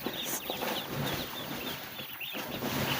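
Day-old ducklings in a brooding area, a dense overlapping chorus of high, soft peeping cheeps over steady background noise, close and continuous.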